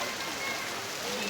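Heavy torrential rain pours steadily over flooded streets around a residential housing society, a dense, continuous hiss that stays even and loud throughout with no voices.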